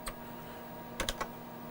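A few quick keystrokes on a computer keyboard, typing a short correction on a Tandy system setup: a lone tap, a pause, then three fast clicks close together, crisp and quiet against a faint steady hum.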